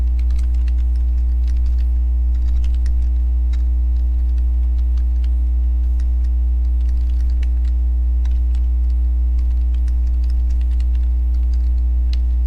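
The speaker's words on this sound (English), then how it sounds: "I'm going to type in my question" Question typed on a computer keyboard, faint irregular key clicks scattered over a loud steady mains hum, no speech.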